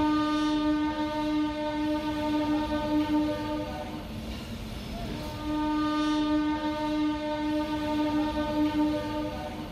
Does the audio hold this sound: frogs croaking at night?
no